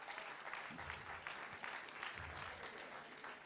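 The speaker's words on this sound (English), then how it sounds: "Give him a round of applause, everybody." A crowd at a table arm-wrestling event applauds the match winner, a quiet, steady spread of clapping heard at a distance with some low rumbling underneath.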